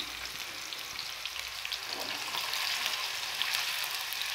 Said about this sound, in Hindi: इसे थोड़ा सा फ्राई करना है।